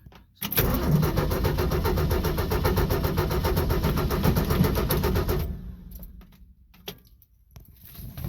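A 1965 Ford F100 engine cranks with a loud, steady rhythmic churn for about five seconds, then cuts off into quiet with a few faint clicks and rustles afterward.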